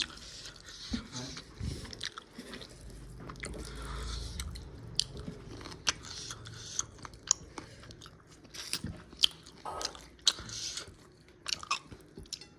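Close, wet chewing and biting of polao rice and chicken, with crunchy bites and squishy mastication running steadily throughout, no talking.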